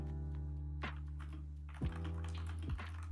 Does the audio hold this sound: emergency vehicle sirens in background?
no